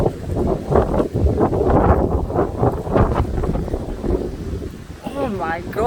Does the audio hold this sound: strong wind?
yes